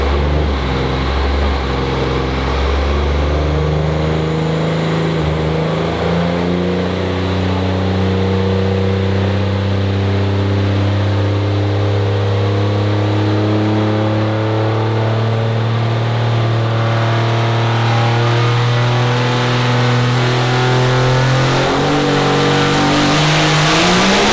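A 2000+ hp race engine with a 91mm turbo and three-stage nitrous revs loudly and steadily, its deep harmonic drone rising gradually in pitch over the whole stretch and climbing sharply near the end.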